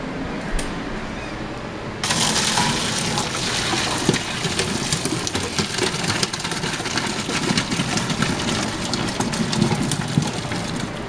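Boiled Yukon Gold potatoes and water poured from a pot into a colander: a loud, sustained rushing splash that starts abruptly partway in and continues with clattering and gurgling to the end.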